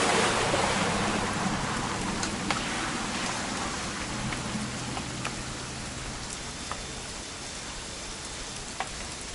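Steady rain falls in What Remains of Edith Finch, a dense, loud hiss of drops on surfaces with occasional sharper drips standing out, continuous with no voices.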